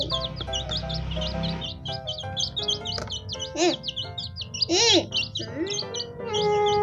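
A pair of young baby chicks peep in rapid, high, repeated chirps, close and fairly loud, continuing throughout with a voice briefly mixed in.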